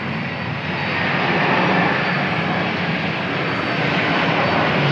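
Boeing 767 airliner engines at Atlanta airport give a loud, continuous broadband roar that swells slightly and holds steady throughout.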